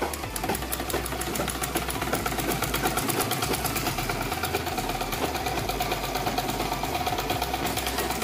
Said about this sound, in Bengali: আমরা দেখতে পাচ্ছি আমাদের মেশিনে সুইং হচ্ছে, সেলাই হচ্ছে, এমনকি কাপড়টাও সামনের দিকে যাচ্ছে